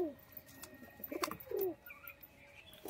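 Soft cooing from hot, active breeding pigeons in a pair, a mix of Madras and other pigeon breeds, comes in short bursts with faint chirps amid low background noise.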